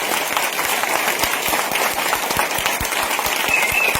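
An audience at a business meeting claps hard and continuously, a dense patter of many hands that holds steady from start to finish with no one speaking over it.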